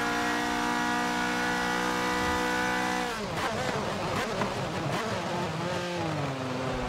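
A Ferrari 458 GTC race car engine in Forza Motorsport 7 at Spa holds a steady high whine, then drops and turns rough and fluctuating as the car slows and shifts, loud and continuous.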